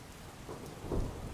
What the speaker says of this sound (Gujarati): કાલ રોજ પણ અવિરત વરસાદ વરસી રહ્યો છે